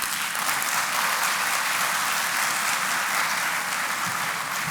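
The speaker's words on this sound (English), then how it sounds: "A round of applause, ladies and gentlemen." A large audience at a graduation ceremony applauds after a keynote speech: a dense, loud, continuous wash of clapping that stays even from start to finish.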